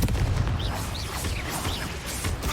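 Confringo fire spell cast in the video game Hogwarts Legacy, a dense continuous rumble of booming blasts and crackling bursts with faint chirpy effects above, steady and loud throughout with a voice briefly present.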